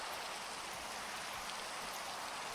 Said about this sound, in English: Raining, nice.